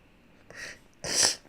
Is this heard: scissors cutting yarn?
no